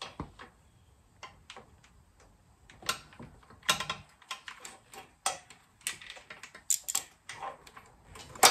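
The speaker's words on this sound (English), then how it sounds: "I got my quarter inch flex head on there with 8mm socket, but it's tight, so I'm only going to be able to break it free." A quarter inch flex head ratchet with an 8mm socket working a tight bolt on a Honda ST1300 clutch slave cylinder, giving quiet, irregular clicking bursts of the pawl, close by and alone.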